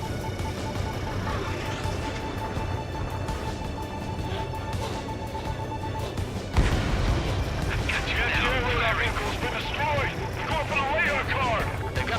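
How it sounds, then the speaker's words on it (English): Anti-air gunfire in the video game Ace Combat 7 sounds as dense, booming bursts over a constant rumbling battle soundscape, growing louder and busier partway through, with voices and radio chatter mixed in. "Anti-air guns aimed right at us."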